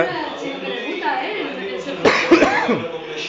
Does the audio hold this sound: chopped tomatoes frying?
no